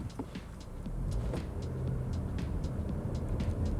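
A car engine hums and rises as the vehicle pulls away, with a steady low rumble and road noise, close and moderately loud.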